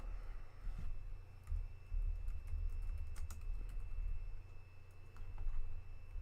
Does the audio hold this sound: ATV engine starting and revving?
no